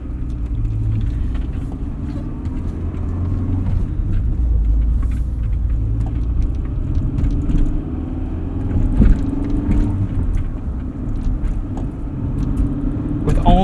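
A lightweight 1988 Honda CRX Si with a 5-speed manual pulls away on the road, its engine and road rumble steady and close from inside the cabin, with no talking.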